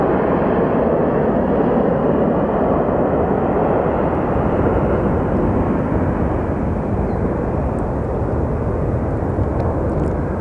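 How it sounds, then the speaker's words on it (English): A Southwest Airlines jet lands at Phoenix Sky Harbor Airport, its engines giving a loud, continuous roar that stays broad and steady throughout, with no talk over it. "But let's take a look at this Southwest plane as it lands."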